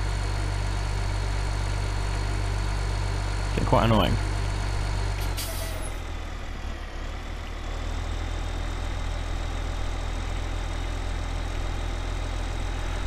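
A tractor engine in a farming video game drones steadily at low pitch throughout, with a brief mechanical whine and hiss partway through, while someone talks over it.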